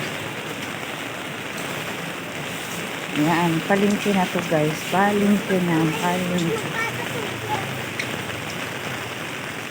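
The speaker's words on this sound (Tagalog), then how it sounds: "Maulan, maulan, maulan." Steady heavy rain hisses across the whole clip, with someone talking over it in the middle stretch.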